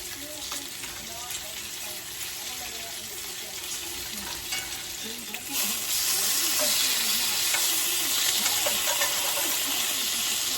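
Thick-cut bacon frying in a large pan, a constant crackling sizzle that grows louder and denser partway through, with occasional clatter of a utensil and faint movement close by.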